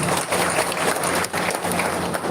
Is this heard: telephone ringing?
no